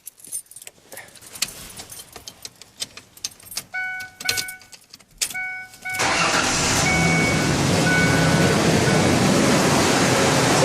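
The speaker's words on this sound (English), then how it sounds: "But as for that, I'll turn the engine on. You guys can hear it go." Keys jangle before a 2003 Ford Ranger's 3.0 L V6, fitted with a high-flow air filter, starts midway and settles into a loud, close, steady idle roar that runs to the end.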